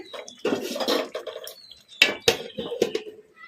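A plate set as a lid over a pan of chicken frying on a low flame, giving a few sharp metallic clinks and clatters close by over a soft sizzle.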